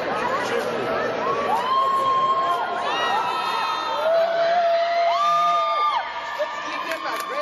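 A runway show audience cheering, whooping and shouting in a continuous crowd roar, loud and sustained, with people talking mixed in.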